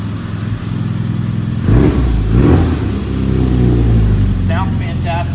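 Fuel-injected engine in a 1970 Austin Mini revving up twice from idle, loud and close, each rise swelling then settling back, with someone talking over the end.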